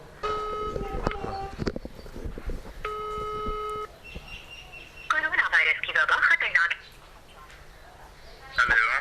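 A telephone dials a second number, giving two short bursts of steady electronic tones followed by a brighter, warbling ring signal, loud and close, with a final burst at the end.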